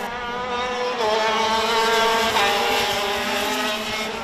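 A KZ2 racing go-kart engine screams past at a circuit in Hungary, its high, buzzing two-stroke note rising loudly as the leader nears, then holding steady and dropping away slightly as it passes.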